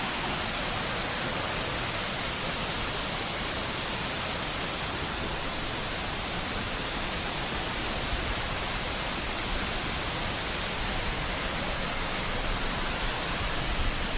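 A waterfall in Cuyahoga Valley National Park gives a steady, even rush of falling water that stays constant and unbroken, with no talk over it.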